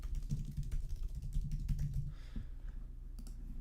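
Someone types on a computer keyboard, a fast run of soft, close clicks that thins out near the end, with no talking.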